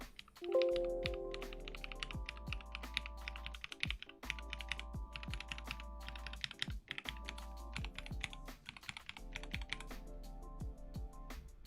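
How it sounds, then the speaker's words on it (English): Rapid, steady typing on a mechanical keyboard with linear switches, each keystroke giving a deep, muffled thock, close and clear over a faint tonal background with no talking. "the thock sound, like the deeper sound of like a linear key. So this is an example of like what mine sound like"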